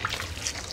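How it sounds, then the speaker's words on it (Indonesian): Water from a tap runs in a strong, steady flow of yellowish water, a continuous close rush with no pauses and no voices. "Sini airnya kenceng tapi kuning"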